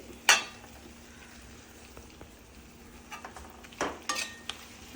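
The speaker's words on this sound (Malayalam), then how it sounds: "ഇനി നമുക്ക് നന്നായിട്ടൊന്ന് ഇളക്കി കൊടുക്കാം." Green chilli pickle being stirred in hot sesame oil gives a soft, low sizzle. Scattered scrapes and clinks of a spoon against the pan come through close and fairly quiet, with no talking.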